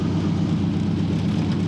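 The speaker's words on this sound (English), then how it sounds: "Both tires broke just a little bit with just a little extra acceleration when I hit the gas pedal." A 1982 Corvette accelerating under throttle, a steady, loud low engine drone with a whirring edge, heard up close and alone with no talking.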